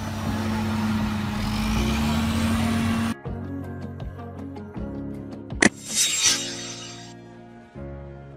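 An amphibious tourist bus, built to travel on land and water, rumbles with a steady engine drone, then shifts to clicking mechanical sounds and a brief hiss of air or water.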